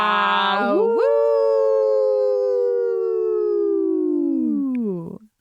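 Podcast hosts howl together at the close of a vampire-themed show, a long sustained wolf-like vocal imitation that slides up, holds and slowly drops before ending abruptly, loud and close.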